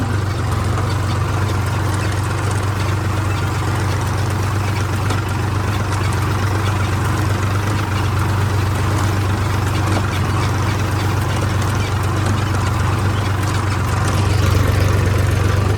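A Mahindra Yuvo Tech Plus 405 four-wheel-drive tractor idles in a field with a steady, unbroken low engine rumble, loud and close, with no voices throughout.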